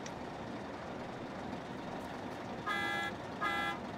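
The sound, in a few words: tour bus honking its horn in The Sims 2 video game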